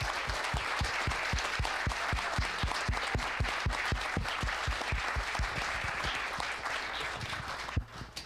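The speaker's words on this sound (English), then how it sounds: "Give them a round of applause, please." A room at a city council meeting breaks into sustained, lively applause for a 2024 section championship team, many hands clapping in a dense steady rhythm for several seconds before tapering off.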